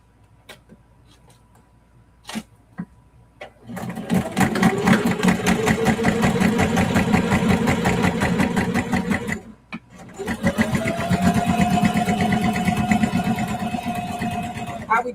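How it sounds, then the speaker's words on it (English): Sewing machine topstitching a clear vinyl project bag, running in two long bursts of rapid needle ticking and motor whir with a short pause between, close by, while someone talks over it. "I'm just gonna go ahead on and top stitch this side"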